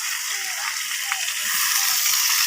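A pan of tomato curry sizzles and fries steadily, a close, continuous crackling hiss with faint stirring scrapes, heard without talk.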